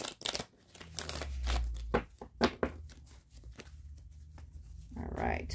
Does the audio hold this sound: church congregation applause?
no